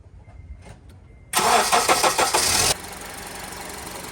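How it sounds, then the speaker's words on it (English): A 2003–2011 Honda Element engine, with freshly replaced spark plugs, cranks briefly and catches with a loud burst, then settles into a steady, quieter idle up close. "let's start the engine, guys, and hear how the engine sounds after replacing the spark plugs"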